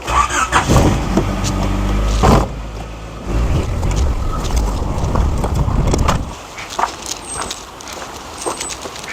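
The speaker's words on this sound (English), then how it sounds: "I'm going to back the car up down here" A Volvo engine running and revving nearby as the car reverses slowly, with a few bumps and footsteps before the engine cuts off.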